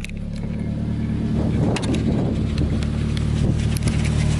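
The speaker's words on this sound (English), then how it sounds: "check out his sick ass exhaust, bro" Car engine running through a loud aftermarket exhaust on a Lexus IS300, a steady close rumble that swells as it revs, harsh and droning with no talk over it.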